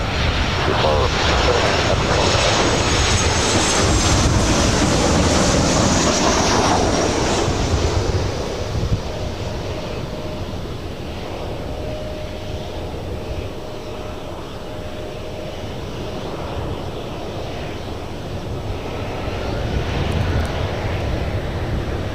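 A Southwest Airlines Boeing 737-700 arriving from Tucson lands at LAX, its loud jet engine roar and rushing air sweeping past, then fading to a lower steady rumble with wind noise.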